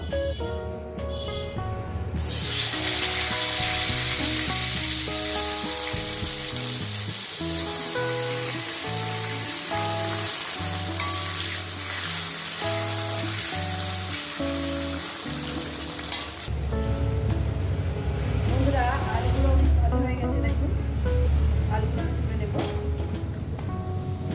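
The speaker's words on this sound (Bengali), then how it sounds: "আপনারা আলু কিন্তু এইভাবেই ভাজবেন বেশি পোড়াবেন না" Potatoes fry in hot oil in a pan, giving a loud, continuous sizzle with bursts of crackle that carry on without a break. Background music plays under the first part.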